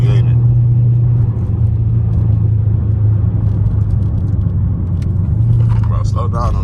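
A straight-piped second-generation Dodge Charger RT rumbles from inside the cabin with a deep, steady low drone, loud and continuous, while people talk over it; no sharp pulls stand out.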